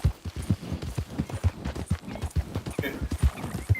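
Rhythmic clip-clop of horse hooves trotting at a steady pace in the video game Red Dead Redemption 2, close and clear, with a faint background hum.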